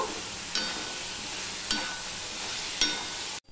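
Vegetables with a little sugar sautéing in a pan give a continuous close hiss, marked by three brief stirring scrapes before a sudden cut to quiet.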